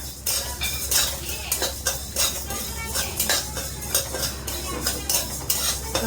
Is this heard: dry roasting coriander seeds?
yes